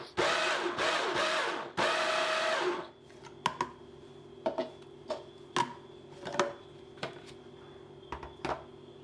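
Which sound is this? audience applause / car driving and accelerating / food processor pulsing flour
food processor pulsing flour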